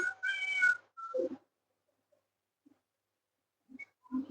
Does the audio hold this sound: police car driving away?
no